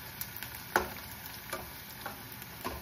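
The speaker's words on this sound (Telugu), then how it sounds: "ఇప్పుడు ఇందులో కొద్దిగా కరివేపాకు వేసుకుందాం." Curry leaves added to onions frying in hot oil for a Telugu cashew tomato curry, giving a quiet steady sizzle with a few soft stirring clinks and pops spaced through the short stretch, no voices.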